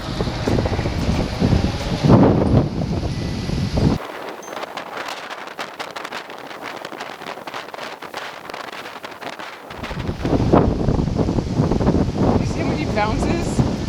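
Strong wind buffets the microphone in loud gusts at a Sarasota, Florida beach, easing briefly in the middle before roaring back, with no voices.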